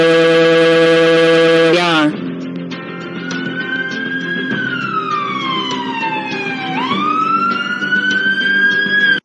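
Police car siren sound effect: a loud, close electronic wail sweeping slowly down and then snapping back up, after a brief harsh horn-like blast at the start.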